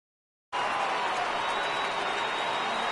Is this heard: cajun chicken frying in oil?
no